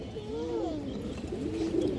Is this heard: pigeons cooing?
yes